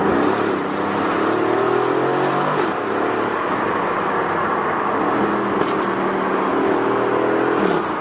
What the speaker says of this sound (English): So right here, there is a wingless GT3 RS.